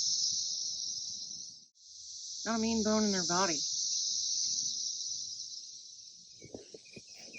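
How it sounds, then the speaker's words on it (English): A loud, steady high-pitched buzz of cicadas drones throughout, nearby and continuous, while someone speaks briefly partway through. "The cicada. You can hear it really loud."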